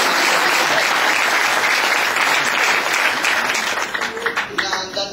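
Loud, dense audience applause fills the room continuously, thinning slightly toward the end, with a voice faintly audible underneath.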